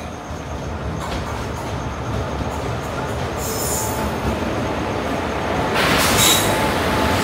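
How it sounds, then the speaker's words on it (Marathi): A train rolls into a railway station with a steady rumble of wheels on track, growing louder and closer, and bright wheel squeals breaking in near the end; no one speaks. "finally train he"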